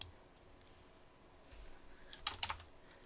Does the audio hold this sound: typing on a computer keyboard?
yes